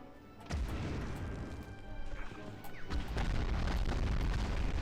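Explosion of a Stuka dive bomber in the PSOne game Medal of Honor, a deep booming blast with rumbling debris, followed by further heavy thuds over a continuous low roar.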